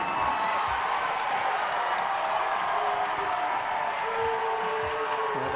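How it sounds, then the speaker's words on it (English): A volleyball crowd of Colgate fans boos the officials in a sustained, broad roar that fills the gym, steady and fairly loud from start to finish. "the Colgate fans are booing the officials"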